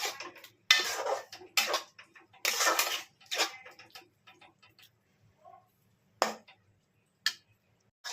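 A spoon stirs and scrapes mashed pointed gourd with green chilies in a pan as it dries out, giving irregular bursts of metallic scraping and clinks separated by quiet gaps, close and fairly soft.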